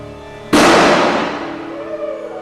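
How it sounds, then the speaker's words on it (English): A wheel puller working on a steam locomotive wheel at a railroad shop lets go with a single sudden, very loud sharp bang, followed by a long fading ring and rumble. "It was these 2 guys pulling a wheel on this wheel puller made quite a racket."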